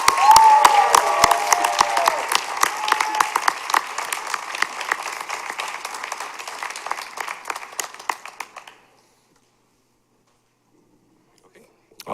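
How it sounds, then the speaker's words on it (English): Dense applause from a school show audience fills the opening eight seconds or so, fading to silence before a brief sound at the very end. A faint chime-like tone rings briefly near the start. "let's just hear a huge round of applause for everyone else who took part in tonight's evening"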